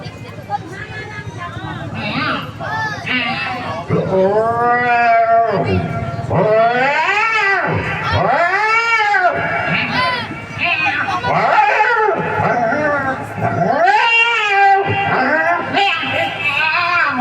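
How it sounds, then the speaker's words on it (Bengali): Two cats yowl and wail at each other in drawn-out, rising and falling caterwauls, loud and close, with brief pauses between the howls. "দুটো বিড়ালের মধ্যে ঝগড়া হচ্ছে"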